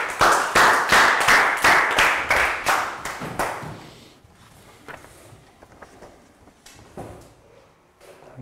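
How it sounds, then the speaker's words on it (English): A Year 3 class in a health education lesson claps together in a steady, rhythmic unison beat, loud and close for about four seconds before trailing off into scattered taps and faint room noise. "High five. Round of applause."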